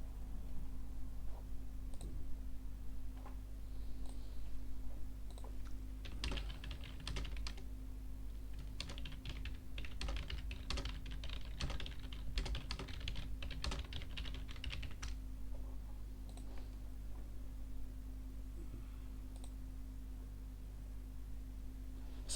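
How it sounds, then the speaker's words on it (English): Rapid clicking keystrokes on a computer keyboard come in a dense burst of several seconds, close and fairly quiet over a constant low electrical hum, with a few scattered single clicks before and after. "So I'm just typing in some routes at the time,"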